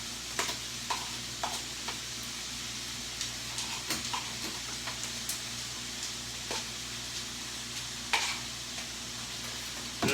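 Sour cream is stirred into a sizzling beef and broccoli mixture in a pan, with a steady frying hiss broken by soft spoon scrapes and knocks against the pan, close, with no talk.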